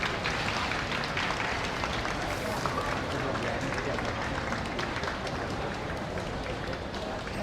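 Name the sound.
crowd applauding at Gion Festival float procession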